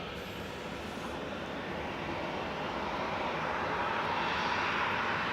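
A jet airliner at Leeds Bradford Airport gives off a steady, broadband engine roar that holds strong and slowly swells, heard from a distance outdoors with no speech.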